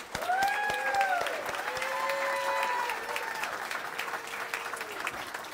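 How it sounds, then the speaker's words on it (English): An audience applauds the college staff at a Southern California graduation commencement ceremony, a steady round of clapping heard from a distance under tonal music or sustained voices, moderately quiet throughout. "let's give the entire staff of Intercoast College a big round of applause"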